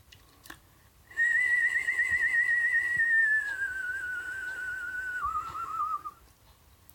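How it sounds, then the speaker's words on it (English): A single sustained tooth whistle with tongue vibrato, slowly drifting downward in pitch with a slight wavering vibrato, clear and alone against quiet background. "The first one is the regular vibrato, and it sounds like this."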